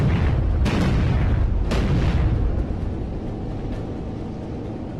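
Heavy naval gunfire booms from warships in the World War II naval combat game Battlestations: Pacific, two loud blasts near the start over a constant low rumble of battle that fades slightly toward the end.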